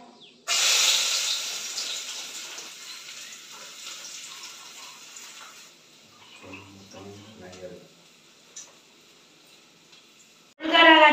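Chopped onions drop into hot oil in a pan and sizzle with a loud burst of hiss that slowly settles, then a second sharp sizzle flares at the end.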